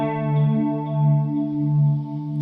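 Heavily processed cinematic guitar from the Sample Logic Cinematic Guitars Infinity library, a sustained chorus-swirled chord with rich harmonics that swells and ebbs in slow, even waves throughout, alone with no voices.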